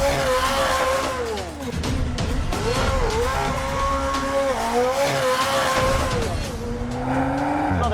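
A McLaren Senna supercar launches hard, its engine note loud and close and climbing steadily through the gears, with brief dips at each shift and a continuous roar lasting throughout.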